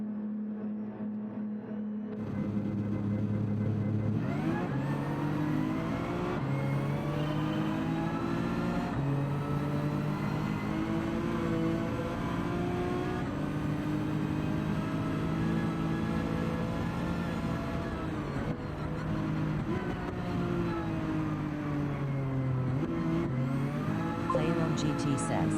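Race car engines in Gran Turismo 7 roar continuously at high revs, with pitch rising and dropping through gear shifts at a steady, loud level for the whole stretch.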